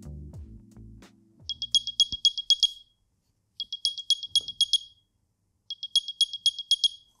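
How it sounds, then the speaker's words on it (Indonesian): An AirPods Pro 2 charging case plays its find-my alert: three bursts of rapid high chirping beeps repeating, fairly close, with brief handling knocks at the start. "sekarang ada fitur menarik di case ini, yaitu dia bisa keluarin suara guys"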